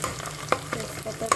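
Ginger and garlic sizzle in a hot pan with a few quick stirring scrapes over a short stretch, close and fairly loud, no voices.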